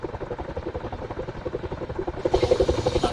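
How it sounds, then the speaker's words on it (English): A military helicopter passes in the DCS flight simulator, its rotor thumping in a fast steady rhythm that grows louder and brighter as it nears. "Another chopper probably coming in to drop troops off, or heading back to base."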